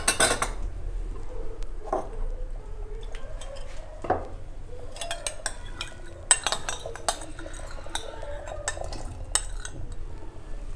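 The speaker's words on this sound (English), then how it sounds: "just stir it well, otherwise it will stuck in the vessel" A spoon scrapes and clinks against a metal cooking pot as chicken soup is stirred, a steady close run of metallic taps and scrapes with a low background hum.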